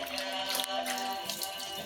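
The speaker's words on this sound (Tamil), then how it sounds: "நிறைய தண்ணி பிடி." Tap water runs steadily into a vessel in a kitchen sink, a faint continuous splashing stream.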